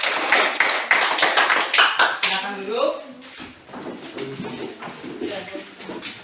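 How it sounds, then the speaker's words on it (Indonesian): Classroom students clap together in a rapid burst of many overlapping claps, fairly close and loud, fading after a couple of seconds as a voice talks over the room. "tepuk tangan untuk kalian semua"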